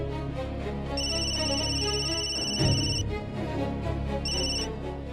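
A telephone rings with an electronic ringtone in a Marathi TV drama scene, two bursts of repeating high tones over a soft background music bed, moderately quiet, with no talk during the ringing.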